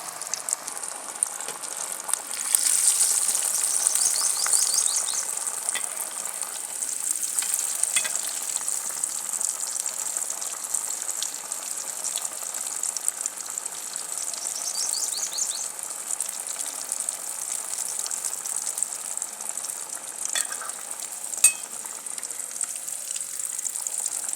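Chickpea tikkis fry in a pan with a continuous bright hiss and sizzle that swells at times and then settles into a steady crackle. It runs long, heard alone without speech.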